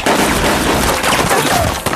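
Rapid bursts of gunfire in a film battle scene from Kenshin The Beginning, with men surrounding a swordsman and shooting at him indoors; loud, dense overlapping shots crackle continuously with no gaps.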